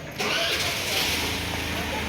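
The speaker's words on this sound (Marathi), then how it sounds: "ही आहे आमच्या सोसायटीतली पार्किंग तर प्रांजलचे पप्पा काढत आहे गाडी" A car engine starts in a housing society's parking lot, then settles into a steady mid-pitched running hum close by, with a faint voice under it.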